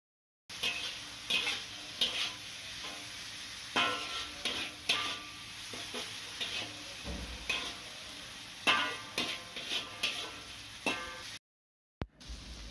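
Pickled jackfruit husks tossed with salt and ajinomoto in a pan, stir fried with repeated scraping and clattering stirs over a steady sizzle, fairly close and moderate in level, with no talk.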